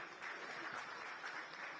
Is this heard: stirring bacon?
no